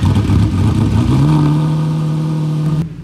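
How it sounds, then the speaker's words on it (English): A Lamborghini Murcielago with scissor doors starts up at a car rally registration day, its engine rising into a steady loud rev that holds for a few seconds before cutting off abruptly, close by with no talking. "looks like the Murcielago is going to start up any minute now"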